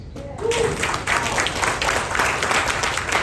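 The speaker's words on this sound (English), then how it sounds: "Alright, give yourself an applause." A room of trainees at a leaders' meeting in India breaks into applause on cue, the clapping rising quickly after a brief quiet start and continuing steadily at close range.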